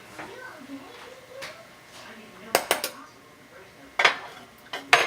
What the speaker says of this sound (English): So I'm going to use a knife to make that indentation.